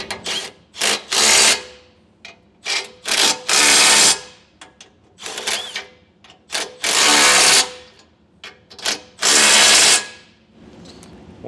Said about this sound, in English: And we'll get all 4 of our bolts started. And we can tighten these down with a 19mm socket.